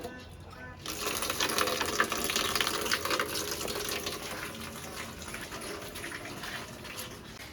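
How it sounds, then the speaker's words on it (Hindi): Water runs steadily from a tap on a rooftop terrace, a continuous close splashing gush as a container fills, with no speech over it. "यार अभी तो पूरा पानी कलेक्ट कर लेती हूँ।"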